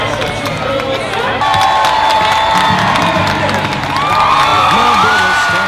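At a figure skating competition, a large arena crowd cheers and applauds in a loud, continuous roar, with whoops and shouts rising over the clapping throughout.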